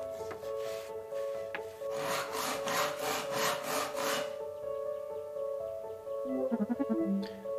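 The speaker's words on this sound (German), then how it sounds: "ich muss die Bretter etwas kürzer sägen." Wooden boards are sawn by hand in the video game Distraint 2, with a steady back-and-forth rasping of rhythmic strokes over a constant musical drone, ending with a brief clatter.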